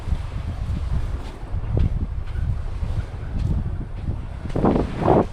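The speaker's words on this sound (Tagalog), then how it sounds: "Ang lakas ng hangin eh." Strong wind at a beach cove in San Antonio, Zambales, roaring steadily as broadband buffeting with low gusty rumble, plus a couple of brighter surf-like bursts near the end; no talking.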